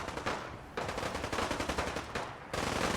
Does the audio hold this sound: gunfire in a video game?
yes